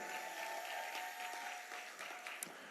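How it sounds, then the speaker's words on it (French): An audience applauds at an evening gathering, steady dense clapping held at moderate loudness throughout, heard from within the crowd without talking. "représentée par le frère David Izé, que je vous prie d'applaudir également."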